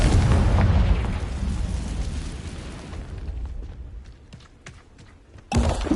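Confringo blasting-spell explosion in the Hogwarts video game: a loud, deep boom opening the clip and rumbling away over several seconds, followed by scattered small crackles and a sharp fresh burst near the end.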